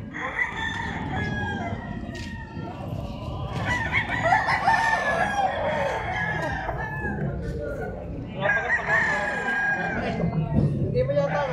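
Roosters crow repeatedly at a poultry farm or market, with clucking chickens around them. The crows are loud and overlapping, and someone speaks in Filipino over the birds.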